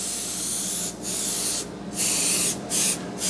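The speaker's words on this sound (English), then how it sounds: "just spray the openings, because that's where you want the color to be anyway" An airbrush sprays color through a lattice stencil onto a cake top, a steady close hiss in several bursts separated by short pauses.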